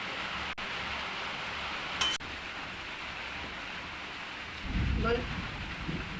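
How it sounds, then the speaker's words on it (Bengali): Heavy monsoon-style rain pours steadily outside at night as a dense hiss, with a couple of sharp clicks and a low rumble rising near the end. "আর বাইরে ব্যাপক পরিমাণে বৃষ্টি"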